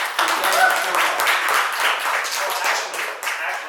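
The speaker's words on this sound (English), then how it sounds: "can we give him a round of applause for that?" A live audience at a Bitcoin podcast recording claps in a short, lively round of applause. The clapping is close and fairly loud, with some voices mixed in.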